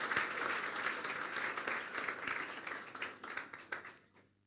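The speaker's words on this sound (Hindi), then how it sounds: "चलो तालियां बजा दो इसके लिए" Audience applause at a church sermon on fasting and prayer, a dense sustained round of many hands clapping that thins and fades out near the end, heard alone.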